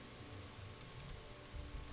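Heavy rain falls steadily in Pathfinder: Wrath of the Righteous, a dense, even hiss with a low rumble that swells slightly near the end, with no voices.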